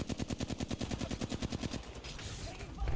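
Rapid automatic gunfire in a multiplayer video game shooter, a fast even burst of loud shots for about two seconds, followed by a noisier tail of echoing game sounds.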